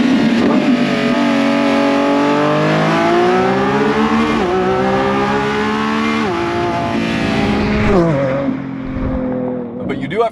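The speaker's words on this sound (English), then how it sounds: "once the engine fires up, everything changes" A Lamborghini Revuelto V12 roars loudly and close, rising and falling through several revs with tonal climbs before dropping away near the end, with a voice heard under the engine.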